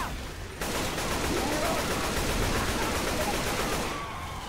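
Sustained automatic AK rifle fire in the zombie shooter game Left 4 Dead 2, a dense continuous burst of loud shots that starts abruptly and runs for several seconds.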